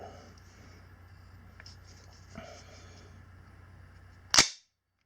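The bolt of a Foxtrot Mike FM-9 9mm AR carbine snaps back and locks with one sharp, loud metallic clack, following a few faint handling clicks in a quiet room.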